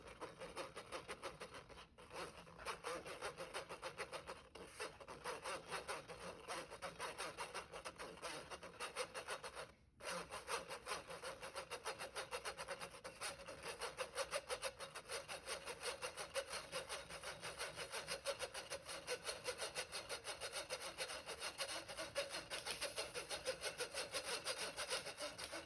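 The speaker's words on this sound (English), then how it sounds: "When you're sifting, you can push the ingredients through using a rubber spatula or a spoon, or you can tap the sides of it with your hands." Cookie dough ingredients being sifted through a sifter for chocolate chip oatmeal cookies, a continuous rhythmic scraping and rasping with fast even strokes, close and steady for the whole stretch with only brief breaks.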